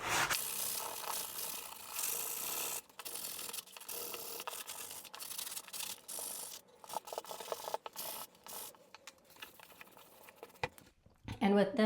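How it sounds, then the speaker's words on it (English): Repeated hand-rubbing rasps of sandpaper scraping over wood filler, in uneven strokes with short pauses, fairly close. "I'm gonna start sanding over here."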